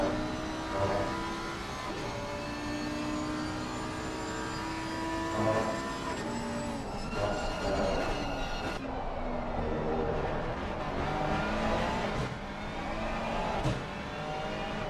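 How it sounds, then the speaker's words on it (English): A sim racing car engine roars and revs continuously, pitch climbing and dropping through gear shifts as it accelerates and brakes into a corner while being chased. "You hear from Roman Fralla's car as Marek Dvorak chases him down into corner 10."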